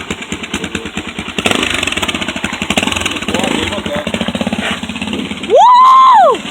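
A motorcycle engine runs close by with a rough, pulsing putter that swells as it revs. Voices talk over it, and a loud whoop cuts in near the end.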